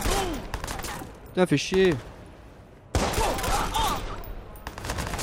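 Gunfire from the video game Watch Dogs crackles in dense bursts before and after a short gap, while a player swears loudly over it.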